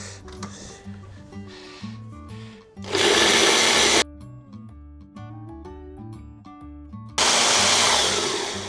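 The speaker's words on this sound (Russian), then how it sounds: "И все это мы сейчас пропустим через блендер." A kitchen blender whirs loudly in two bursts, mixing pizza ingredients with a teaspoon of sugar, each roughly a second long and separated by quieter stretches with a background melody playing.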